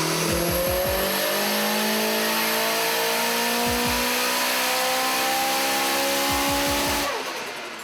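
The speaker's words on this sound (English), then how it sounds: "After a quick warm-up, we ran the car on 23 pounds of boost." A turbocharged car held at 23 pounds of boost screams on a dyno, its engine note climbing steadily in a long, loud pull for about seven seconds before cutting off, with a few deep thumps near the start.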